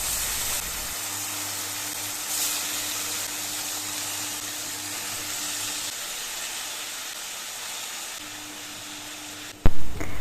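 Tomato slices sizzle steadily in a pan of hot olive oil or butter, a continuous close hiss with a low hum beneath, broken by a sharp clatter at the very end.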